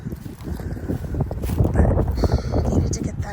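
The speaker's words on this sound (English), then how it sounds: "It is windy" Wind gusts outdoors on a cold day in a garden, a steady loud roar buffeting the microphone throughout.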